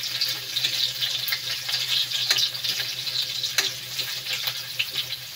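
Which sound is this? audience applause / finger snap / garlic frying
garlic frying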